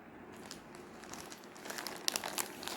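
Wrapping crinkles and rustles continuously while a package is unboxed, close and steady, with sharper crackles and small tearing-like snaps toward the end and no talking.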